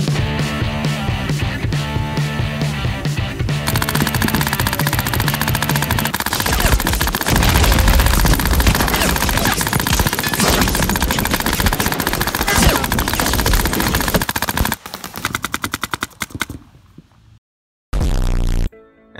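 Dangerous Power Turbine G5 Spec-R paintball marker firing full auto at 20 balls per second, a dense, loud, continuous rattle of shots that stops abruptly, followed by a short separate burst.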